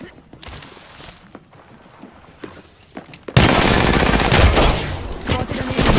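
Gunfire in the Apex Legends video game: after a few seconds of quieter in-game clatter, a loud, sustained burst of rapid shots erupts and keeps going to the end.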